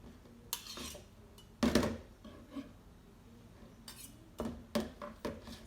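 Garlic paste is scraped from a crusher into a mixing bowl for pesto, giving a few sharp metallic clinks and short scrapes spaced apart, close and moderately quiet, with no talking.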